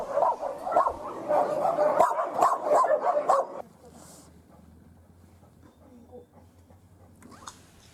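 Feral dogs at an animal shelter in Becej bark and yip in dense overlapping bursts, fairly close and loud for a few seconds, then stop abruptly, leaving faint background noise.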